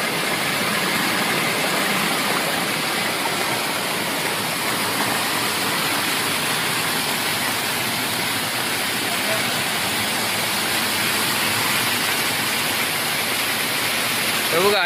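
Heavy rainwater rushes through a narrow field channel, a constant loud, close roar of flowing water with no break.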